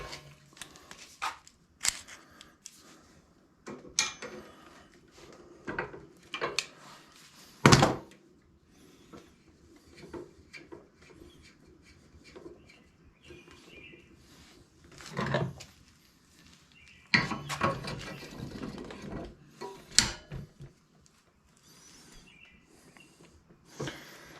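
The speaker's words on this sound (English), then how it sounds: "let's go ahead and try to loosen that bolt up real quick" A nut is being worked loose on a Baja Warrior mini bike during a rebuild. Sparse, irregular metallic knocks and clunks from the wrench come close up, with quiet pauses between them and no talking.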